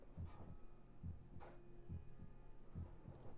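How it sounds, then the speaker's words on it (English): A slow, steady heartbeat thumps in the video game Song of Horror, low double beats repeating about once a second over a dark, droning hum, with no voices. "I hear heartbeat."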